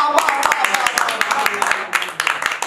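Lively audience applause for a contestant on a quiz game show, dense steady clapping throughout, loud and close, with no talking.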